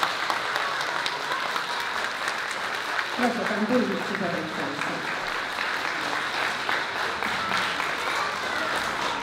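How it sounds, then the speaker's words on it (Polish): An audience applauds preschool children after their performance at a celebration of the 100th anniversary of Poland regaining independence. The clapping is dense and sustained across the whole stretch while a voice speaks over it. "Jeszcze raz gorące brawa."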